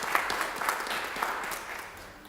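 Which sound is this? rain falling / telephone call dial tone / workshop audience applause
workshop audience applause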